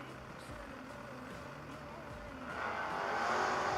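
Drag race cars launch side by side, the Dickey Racing Camaro against Tom Scrifignano's car, their engines swelling into a rising roar under an announcer's commentary.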